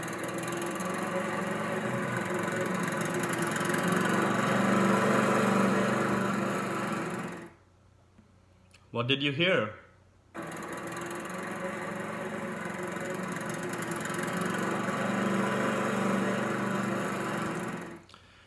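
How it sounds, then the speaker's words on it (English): A lawnmower engine runs with a steady, fairly loud drone, cuts out for a couple of seconds while a voice briefly speaks, then starts up again and keeps droning. "If you said it was a lawnmower, you are amazingly correct now."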